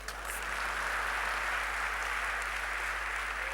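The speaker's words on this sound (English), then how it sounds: "Clap for me." An audience claps together in a classroom lecture, a steady patter of applause that is faint and distant, continuing evenly throughout without voices.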